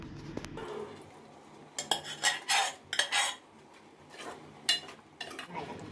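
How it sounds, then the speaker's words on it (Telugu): A spoon clinks and scrapes in a pot as cooked dal is stirred together with fried vegetables for sambar, in a few short close bursts over a quiet background. "ఉడికిన పప్పుని వేగిన కూరగాయలతో కలిపేయాలి"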